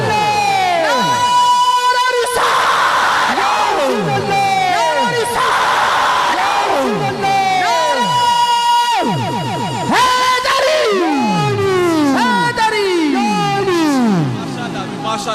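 A crowd at a religious gathering in Punjab loudly chants a devotional slogan in unison, rising and falling call-and-response waves of massed voices that fill the space, with overlapping shouts and a dense, continuous roar throughout.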